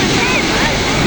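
Steady broadband roar of sea waves washing on a beach, loud and continuous, mixed with wind noise on the microphone.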